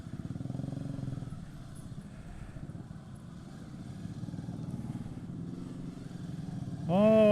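A motorcycle putters along in slow first and second gear through congested traffic, its engine a steady close low throb with small rises and dips, and a brief tonal sweep near the end.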